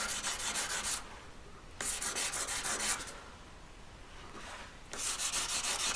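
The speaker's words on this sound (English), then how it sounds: "how long have I been buffing this now?" Platinum jewelry is buffed toward a polished finish, bursts of bright hissing friction alternating with quieter stretches as the piece is worked in passes, close and steady, no talking.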